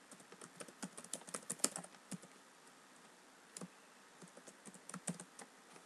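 Quiet, close typing on a computer keyboard while entering search terms, in irregular bursts of soft clicks separated by short pauses.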